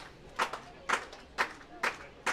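Baseball crowd at a playoff game clapping in a slow rhythmic pattern, five evenly spaced claps, fairly faint and distant, under a commentator talking.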